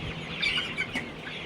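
Young chicks of a high egg-laying breed, around a month and a half old, give a few faint, high, short peeps close by against a quiet background.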